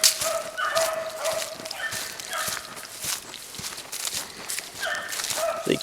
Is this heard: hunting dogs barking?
yes